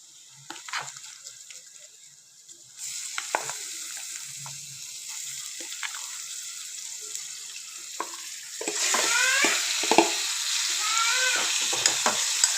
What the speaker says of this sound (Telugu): ఇప్పుడు మనము చికెన్ వేసేసుకుందాము.